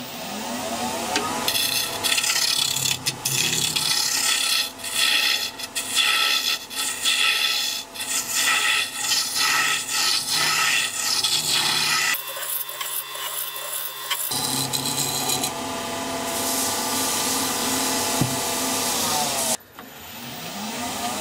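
A wooden sword part is tapered on a woodturning lathe, producing a continuous loud rasping scrape of the tool against the spinning wood for about twenty seconds. There are brief changes in tone and short pauses near the middle and the end.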